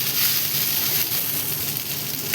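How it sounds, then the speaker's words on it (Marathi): Leftover cooked rice frying in hot oil on a flat tawa, a steady close sizzle and crackle that stays loud and even throughout, with no voices. "मी तव्यावर तेलामध्ये आपण गरम करून घेणार आहे बघा"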